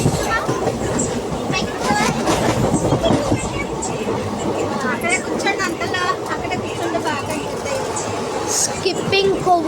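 The 17644 Kakinada Town–Chengalpattu Circar Express passenger train rumbles along the tracks, a loud close clatter of wheels with rhythmic clicks and carriage rattle, while people talk over the noise inside the coach.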